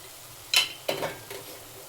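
Turmeric, chilli, cumin and coriander powders stirred into frying prawn pulao, with a few short scraping strokes of a spoon against the pan over a faint background sizzle.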